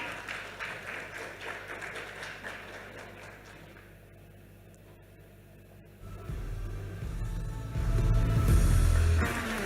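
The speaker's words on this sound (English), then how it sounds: "a big round of applause, everyone" An audience at an education awards ceremony applauds, a crowded, even clatter of clapping that softens and gives way to a louder low rumble.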